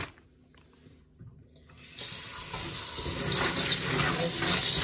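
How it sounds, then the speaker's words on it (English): Running water rinses lima beans in a colander in a sink, starting softly and swelling into a steady, close splashing rush that lasts to the end. "I'm going to take the beans. I've got the colander in here. I'm going to give them a quick rinse."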